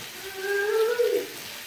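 Tap water runs steadily for a couple of seconds into a container of corn flakes being soaked for a cornmeal cake, a close, even gush with no talking.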